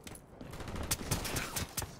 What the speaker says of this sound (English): I have shot him like 50 times.